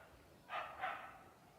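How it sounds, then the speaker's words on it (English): A couple of dogs barking outdoors in an open setting, two short barks fairly close together, moderately loud against quiet background noise, with no talking. "Dogs barking, just when I want to talk."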